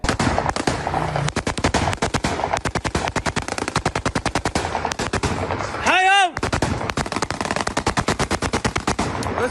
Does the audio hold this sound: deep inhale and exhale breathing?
no